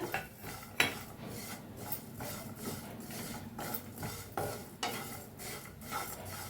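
Sesame seeds roasting in a pan on a medium gas flame, with steady scraping and stirring strokes against the metal and a faint sizzle underneath, fairly quiet and close with no talking.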